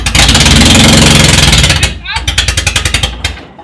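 Car engine overfilled with 18 litres of oil, revved hard with a loud, harsh, rattling roar, then dropping into a choppy, pulsing run of rapid thuds.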